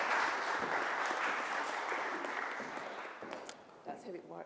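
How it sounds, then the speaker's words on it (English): An audience at a community knowledge gathering gives a round of applause, a broad wash of clapping that slowly fades, with voices and murmurs rising near the end. "can we give a massive round of applause to Louise, and Maggie?"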